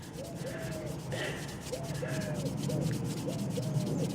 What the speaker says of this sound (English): You put it on a yellow cloth and just rub it backwards and forwards.